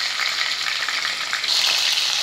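A close, continuous hiss and crackle rises from bhetki fish pieces browning in hot oil, the sizzle swelling slightly louder toward the end, with no speech.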